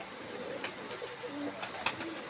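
Pigeons coo softly nearby while pecking at feed, low repeated burbling calls mixed with faint tapping and rustling, fairly quiet throughout.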